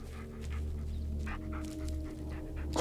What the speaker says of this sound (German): Oh, Hund!